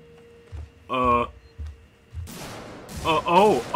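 Gunfire in the survival horror video game Alien Isolation, heard as a few sharp broadband bursts close together, mixed with a man's excited speech.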